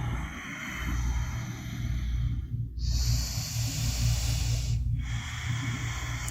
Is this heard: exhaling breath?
yes